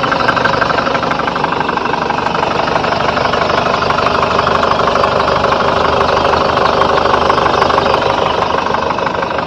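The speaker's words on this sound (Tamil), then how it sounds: "வண்டியோட இன்ஜின் சவுண்டை அமைதியாக கேளுங்க" A Chevrolet Tavera ten-seater runs at a steady idle up close, a loud, even diesel-like clatter with a faint knocking rhythm and constant vibration throughout, with no voices.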